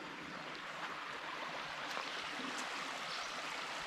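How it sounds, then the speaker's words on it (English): Creek water flowing at a campsite creek bend, a soft continuous broadband rush heard steadily at low volume, with no voices. "Creek's always nice."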